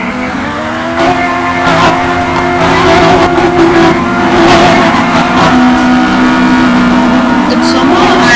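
Car engine in a driving video game running on a 2014 Inspiron 3542 laptop: a steady loud motor drone with shifting pitch and occasional tire noise, continuous throughout.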